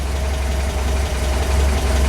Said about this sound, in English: this thing idles at 800 RPM